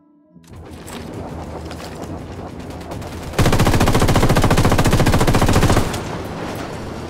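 Apache helicopter machine gun fire in the video game Ghost Recon Wildlands: a steady rattle of automatic fire that swells into a louder, dense, sustained burst before easing back slightly.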